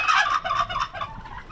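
Farm-raised turkeys kept among pheasants gobbling in answer to a whistle: one close, loud burst of rapid, warbling gobbles lasting just over a second.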